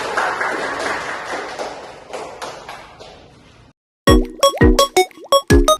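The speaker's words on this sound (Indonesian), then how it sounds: "Tepuk tangan" Short burst of classroom clapping fading over a few seconds, followed after a brief silence by a series of sharp, separate taps or knocks close by.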